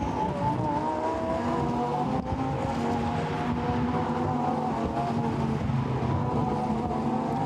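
Lamborghini Super Trofeo race cars lapping the Spa circuit, a dense, continuous engine roar with layered tones from several cars passing close together at high speed.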